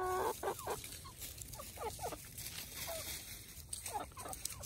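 Chickens on a farm clucking in short repeated bursts, with some sharper calls among them, fairly close over a steady background of farmyard noise.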